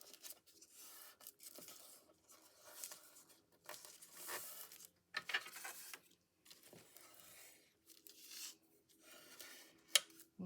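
A paper index card is folded and burnished in short bursts of crisp rubbing and creasing, close and fairly loud, separated by brief pauses, with a sharp tap near the end.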